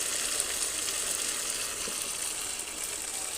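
Chicken with fenugreek and potato sautéing in a pan, a dense, continuous hiss of sizzling oil with faint stirring, close and steady throughout.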